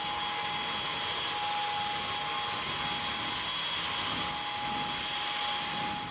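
A Samsung Jet 75 cordless stick vacuum with a soft action brush runs on a hardwood floor, giving a steady, loud high-pitched motor whine with a constant airy rush and no breaks.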